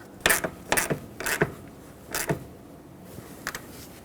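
Ratchet wrench tightening a bolt on a 2011-2016 Ford F-350 6.2L V8 fan shroud, four or five sharp clicking bursts in quick succession, then a couple of lighter clicks, close up.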